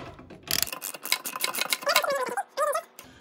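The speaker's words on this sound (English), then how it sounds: "Use my ratchet for this, just because there's no way this thing is going to survive an open-ended wrench." A ratchet wrench tightening an air compressor pressure switch, a series of quick close clicking bursts in short irregular runs with brief pauses between them.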